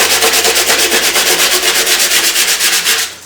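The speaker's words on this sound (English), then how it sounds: "I'm going to go through and just sand everything up." Light-grit sandpaper rubbed over wood in a steady, rhythmic back-and-forth scratch, loud and close, roughly seven strokes per second, stopping near the end, with no talking.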